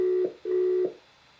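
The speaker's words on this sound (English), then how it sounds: "Now we on the phone call right now." A phone call ringing out, with two steady electronic ringback tones, the first short and the second longer, clean and close, followed by quiet.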